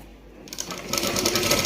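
A sewing machine runs in a short burst, stitching a salwar, its rapid needle chatter starting softly and quickly building to a loud, steady whir.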